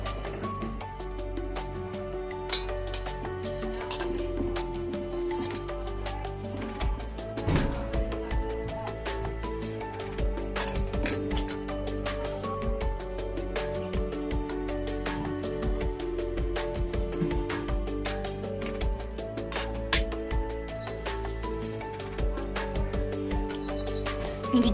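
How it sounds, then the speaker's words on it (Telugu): A mixer grinder blends cooled boiled ingredients, garlic among them, for a spicy red momos chutney in a village kitchen, a steady loud motor whir running unbroken for the whole stretch with no talk. "ఇది చల్లారిపోయిందని మిక్సీ వేసుకుందాం"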